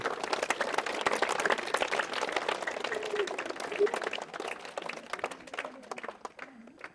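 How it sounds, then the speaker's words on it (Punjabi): An audience claps together at a police commissioner's talk with children, giving a dense, steady burst of applause that carries on for several seconds and thins slightly toward the end, with some voices mixed in. "ਉਹਦੇ ਲਈ ਤਾੜੀਆਂ ਮਾਰੋ ਬਈ"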